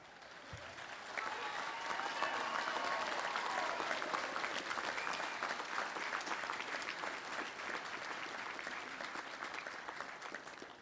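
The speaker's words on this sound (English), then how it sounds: "I guess I need to put a pause for applause in there." A university commencement audience breaks into applause, with a broad wash of many hands clapping that rises quickly, holds steady, and eases slightly toward the end, somewhat distant and with no talking over it.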